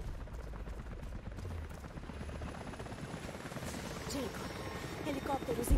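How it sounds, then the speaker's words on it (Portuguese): Helicopter approaching in the video game Rise of the Tomb Raider, a steady rotor thrum building slightly louder over a few seconds, mixed with game ambience. "Helicópteros indo em sua direção."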